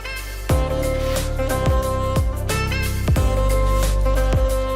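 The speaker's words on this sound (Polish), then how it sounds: "Słyszycie te strzały" A series of low booms, distant gunshots from military training on Terceira in the Azores, thud at irregular intervals over a steady background hum.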